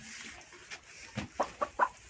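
A hen clucks several times in quick, short bursts, fairly close, against a quiet outdoor background with no talking.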